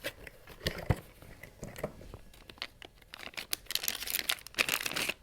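A plastic ESD bag crinkles and rustles in irregular bursts while an electronics board is unpacked, close and fairly quiet, with sharper crackling flurries near the end.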